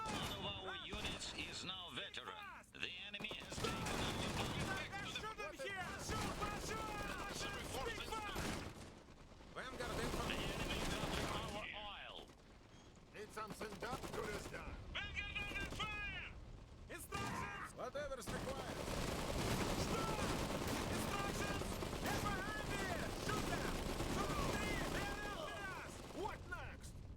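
Gunfire in a real-time strategy battle in Iron Harvest, a dense layer of shots and mechanical clatter that runs almost the whole time under game voice lines and music.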